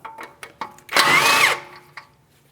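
Power tool spins off an 18mm tie rod end mounting nut on a 2015-2016 Chevrolet Malibu steering knuckle in a single loud, close burst of about half a second, with a few light clicks and taps before and after.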